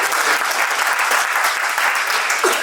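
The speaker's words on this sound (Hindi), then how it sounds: "इनके लिए एक ताली हो जाए।" Audience applause at an alumni meet as a speaker stands on the dais: thick, steady clapping from a large crowd, loud and sustained throughout with no pauses.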